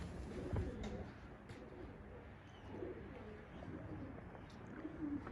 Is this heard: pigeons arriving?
yes